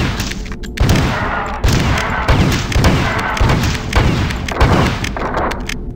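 Shotgun blasts fire in Marathon 2 Durandal, about eight loud, booming shots at a steady, rapid rhythm, each with a short thudding tail, close and alone.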